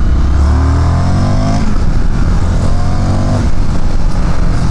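A 2019 Indian FTR 1200 S, a 1203 cc motorcycle ridden in sport mode, accelerates hard with a loud, continuous engine roar whose rising harmonic pitch sweeps up through the gears, heard up close with wind noise and no talk.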